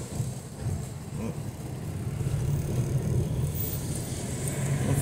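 A car passes along a town street in Itajaí, Brazil, a steady low engine rumble that swells gradually louder, with some wind buffeting on the microphone.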